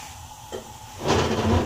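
Kahwa of water with cinnamon, mint and ginger starting to boil in a pot, a soft hiss that rises midway into a louder, steady bubbling and seething close by, with no talking.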